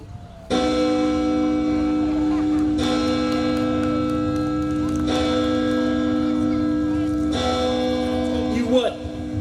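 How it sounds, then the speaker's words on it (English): A church bell rings in long, resonant peals, each strike swelling and sustaining before the next, repeating about four times, loud and fairly close. "you start to hear the church bell ring"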